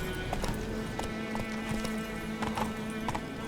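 Horse hooves clip-clopping in The Witcher 3, a steady quick trot of close, crisp hoof strikes over a low ambient hum.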